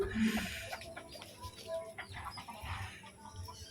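Chickens cluck intermittently nearby, short soft clucks scattered over a low background murmur, with occasional faint distant sounds.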